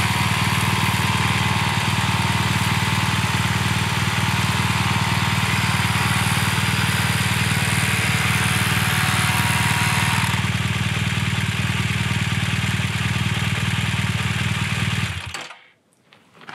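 An off-road trail motorcycle engine idling steadily, a loud, even mechanical drone held for about fifteen seconds before cutting off abruptly near the end.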